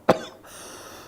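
A single sharp cough sounds close at the start, then quiet indoor room tone follows.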